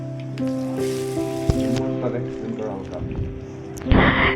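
Pumpkin flower pakoras go one by one into hot oil and sizzle, with soft bubbling and a brighter hiss near the end, while a voice talks over the cooking.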